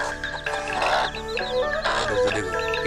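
An angry mother hen on a village farm clucks near her chicks in a busy run of loud, close clucks and squawks over a steady chicken-yard background.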